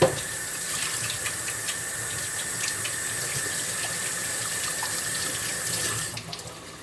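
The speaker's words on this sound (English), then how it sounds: "Wash my hands real quick." Tap water runs steadily into a sink while hands are washed, a constant close splashing rush that stops near the end.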